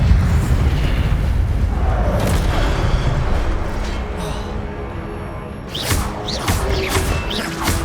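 The Incendio fire spell cast in Hogwarts Legacy on PS5, heavy continuous booming, roaring flame bursts and crashes that ease off briefly before sharper magical impacts return near the end.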